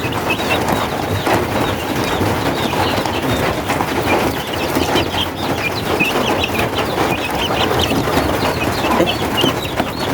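Sick chicks peeping steadily under a warm light in their cleaned brooding box, a dense, continuous chorus of small high calls close by, with no voices.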